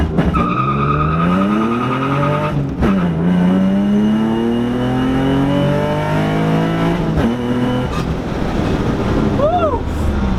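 A car launches hard, its engine revving through rising gear sweeps as the tires squeal, loud and close, with occupants' voices mixed in.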